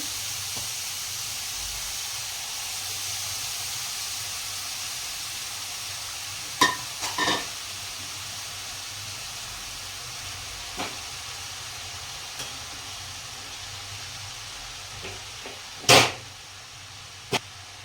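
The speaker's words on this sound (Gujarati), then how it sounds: "સરસ ધોઈને કટ કરેલી પાલકની ભાજી નાખીશું. પાલક થોડો શેકાય એટલે ઉમાઈ જશે." Washed, chopped spinach frying in a pan, a soft steady sizzle and hiss throughout, broken by several sharp stirring scrapes and clinks, the loudest near the end.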